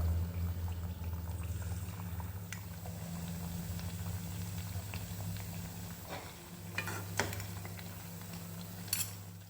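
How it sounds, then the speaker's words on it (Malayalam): Batter-coated sweet potato slices deep-fry in oil, a soft steady bubbling hiss under a low hum, with a few sharp utensil clicks toward the end. "മാവിലേക്ക് മധുരക്കിഴങ്ങ് ഇട്ട് എണ്ണയിൽ ഫ്രൈ ചെയ്തെടുക്കണം"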